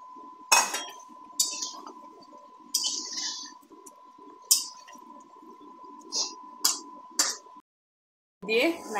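A metal spoon stirs fish and potatoes in a cooking pot, giving a series of sharp clinks and scrapes against the pot at irregular intervals, close and fairly quiet over a steady hum, with a short silent gap near the end.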